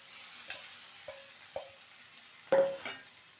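Soaked flattened rice (aval) is stirred into a tempering in a pan with the stove off, heard as a handful of quiet spoon taps and scrapes with one louder metallic clink and ring, over a faint residual sizzle.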